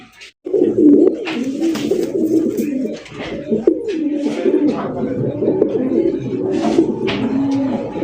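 Many satin pigeons coo continuously close by, overlapping soft rolling calls forming a steady murmur, with a few brief higher chirps and rustles mixed in.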